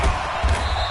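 A large NFL stadium crowd roaring before a Kansas City Chiefs versus Atlanta Falcons game, a dense, loud, continuous wall of cheering with no single voice standing out.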